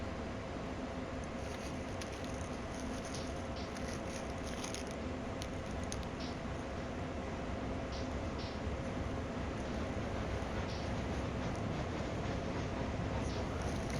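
A heavy coal train locomotive in Train Sim World 5 pulls under power near Cresson, with a steady rumbling drone and faint clanks running evenly and continuously throughout.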